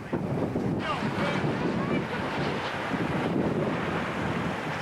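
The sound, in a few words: tornado rear flank downdraft wind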